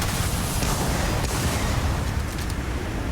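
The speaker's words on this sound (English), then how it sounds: "Lots of explosions." Dense, continuous rumbling blasts and booms in the video game Starfield, loud and chaotic with no pauses.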